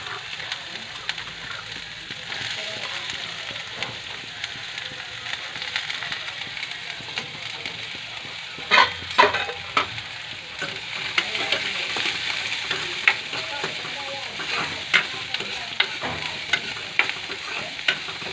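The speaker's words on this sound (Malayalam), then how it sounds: "ഇനി ഇതിലേക്ക് സവാള ഇട്ട് കൊടുക്കാം." Onions sizzle steadily in hot oil in a cooking pan, with a few brief clattering stirs and scrapes of the spoon breaking through the constant close frying hiss.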